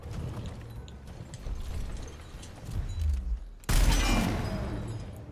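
Gunfire in the video game Gears Tactics, a rattling burst of shots followed by a sharp louder blast and noisy rumbling aftermath, no talk.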